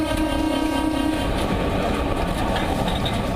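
A passenger train running between Meerut and Sahibabad, with a loud continuous rumble and rolling rail noise plus a sustained tonal hum carrying through, close by and steady throughout.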